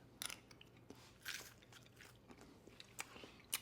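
Close, quiet crunching bites into puffed keto protein cereal, a few sharp crisp bursts scattered over several seconds, with no talk.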